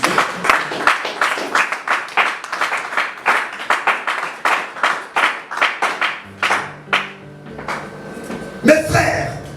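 Congregation at a church service applauding in rhythmic, steady clapping that runs throughout, with a voice speaking over it and a sustained organ or keyboard chord entering near the end.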